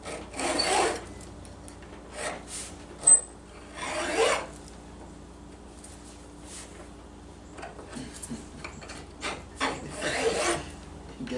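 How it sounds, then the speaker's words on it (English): Scraper rasps against residue on an engine part in short, uneven strokes, several gritty scrapes close up with pauses between them and no talking. "we're gonna scrape some of this off now"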